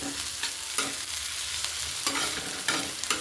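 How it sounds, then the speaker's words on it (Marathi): Egg chutney with fresh coriander is stirred in hot oil in a pan, giving a steady close sizzle broken by a few sharp scraping strokes of the spoon. No voices are heard. "कोथिंबीर घातली आता. मस्त मिक्स करून घेऊ."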